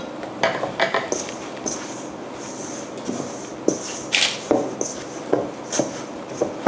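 Steamed bun dough for char siu pork buns being kneaded by hand, with soft repeated slaps and knocks against a bowl or work surface at an irregular rhythm, fairly close, with no talking.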